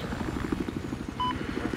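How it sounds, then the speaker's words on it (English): Helicopter flying in a video game, a close, rapid rhythmic rotor chop beating steadily throughout, with a short electronic beep partway through and a voice talking over it. "Chopper skills are detestable. This thing flies so slow."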